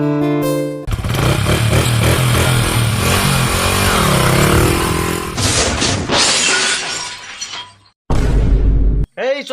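A motorcycle accident crash effect: a loud, sustained engine roar with grinding and shattering glass for several seconds, then a sharp final impact burst and a brief whooshing tail.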